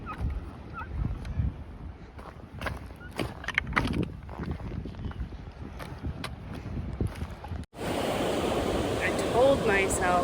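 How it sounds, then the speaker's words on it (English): Ocean surf breaking on the beach at the Rogue River South Jetty on the Oregon coast. Quieter, muffled outdoor sounds come first, then a loud, steady wash of nearby surf and wind fills the last few seconds. "Back to the beach, Rogue River,"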